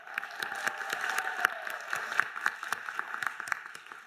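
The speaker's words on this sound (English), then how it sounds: "We're gonna do a lot of clapping, a lot of encouragement" Sparse applause at a health science graduate celebration, a modest number of people clapping in fairly distinct, irregular claps at moderate distance, with no voices over it.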